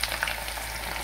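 Garlic, onion and curry leaves tempering in hot oil give a steady, close sizzle with a few brief crackles near the start, continuous and even throughout with no talking.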